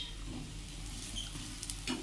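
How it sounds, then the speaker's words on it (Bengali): Masoor dal fritters fry gently in a little oil over low flame, a soft, steady sizzle with faint stirring clicks, quiet and close with no talking. "সামান্য তেলেই কিন্তু আমি বড়াটা ভাজছি।"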